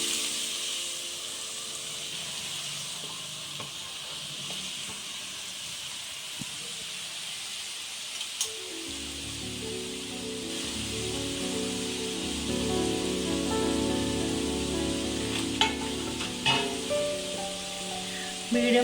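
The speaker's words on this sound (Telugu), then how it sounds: "తురుముకున్న క్యారెట్ ఉంది కదా, ఫ్రై చేసుకుందాం." Grated carrot frying in a pan for carrot halwa, giving a steady sizzle and hiss that thickens into louder crackling and stirring scrapes about halfway through, with no talk.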